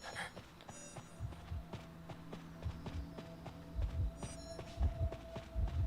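The heartbeat warning in the Identity V survival game thumps as low, muffled double beats that grow louder and closer. A steady electronic hum runs underneath and faint running footsteps can be heard.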